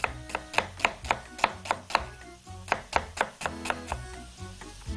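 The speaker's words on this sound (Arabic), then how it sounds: "خلاويص هاخد معايا بصله، مش هاخد معايا اكتر من بصله واحده بس كفايه قوي، وبرده هقطعها مكعبات" A knife chops an onion into cubes on a cutting board in a steady run of about sixteen crisp, close taps with brief pauses between them. No one talks.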